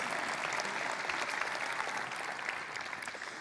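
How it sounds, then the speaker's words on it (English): Steady applause from a conference audience at a frontend talk on React micro-interactions, a dense even wash of many hands clapping throughout, fairly distant and without talk. "That's where you clap."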